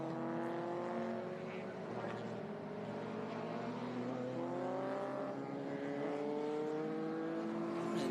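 A race car laps the Laguna Seca circuit at a historic racing meeting, its engine note rising and falling through gear changes, with a second car audible at times, steady and fairly distant throughout.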